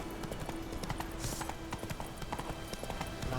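Horse hooves gallop in The Witcher 3, a steady rapid clip-clop of a mounted rider at moderate distance, continuous throughout under game ambience, with faint breathy noise.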